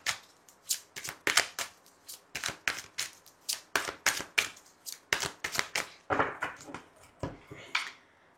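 Tarot cards being shuffled by hand, a rapid series of crisp riffling and slapping bursts in an uneven rhythm, close and fairly quiet, with no talk over them.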